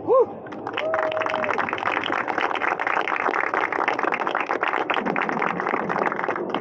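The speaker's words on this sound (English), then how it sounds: "Please give him a round of applause." Steady audience applause fills a signing ceremony for a battery supply agreement between LG Energy Solution and Aptera, starting after a brief tone and continuing as dense, even clapping from a roomful of people.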